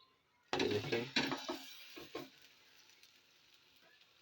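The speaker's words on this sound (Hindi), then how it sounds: "इस तरह दूसरी साइड भी पका लेंगे।" Egg roti sizzles and fries in a pan as it is flipped to cook the second side, with a burst of crackling and clatter at the start that fades into a softer, steady sizzle.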